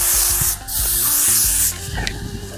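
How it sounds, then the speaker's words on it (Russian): Hairspray hisses in long bursts from an aerosol can held about 30 cm from a strand of hair while setting beach curls, two steady sprays with a short break between them, loud and close. "лак мы распыляем не ближе, чем 30 сантиметров к пряди"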